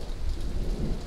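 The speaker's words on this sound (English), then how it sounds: "Lightning is very close right now." Heavy rain and a deep rumble of thunder fill a brief stretch of an outdoor thunderstorm with lightning close by, a loud continuous low roar with no voices.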